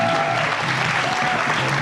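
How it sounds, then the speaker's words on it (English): An audience at a development convening applauds in a steady, dense wash of clapping that fills the whole stretch, with a faint tonal hum running underneath. "So let's give a huge round of applause for everyone here."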